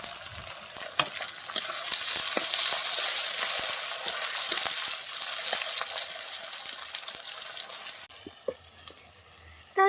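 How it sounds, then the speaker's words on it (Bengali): Onions fry in hot oil in a wok: a busy, fairly loud sizzle with repeated metallic clinks and scrapes of a spatula stirring, easing toward the end. "এবার পেঁয়াজগুলো দিয়ে দেবো।"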